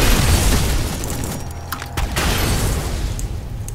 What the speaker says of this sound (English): Because I have a particle cannon now.